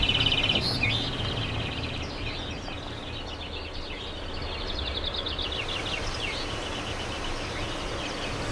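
A songbird singing at a bird song contest in the Dutch-speaking part of Belgium, with repeated bright chirping phrases over steady outdoor ambience, clearest at the start and again midway.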